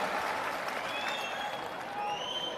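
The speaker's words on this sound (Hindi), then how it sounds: "एक बार जोरदार तालियों के साथ आप सभी हमारे सम्मान में स्वागत करें।" An audience at a youth club meeting in Bapu Auditorium applauding: a faint, steady wash of many hands clapping that carries on evenly for a couple of seconds, heard from a distance.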